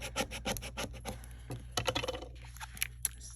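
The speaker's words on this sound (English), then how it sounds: "Let me scrape it again." A Cricut scraper tool rubs back and forth over vinyl in a quick series of close, raspy strokes, a rhythmic scratching that grows sparser and more irregular toward the end.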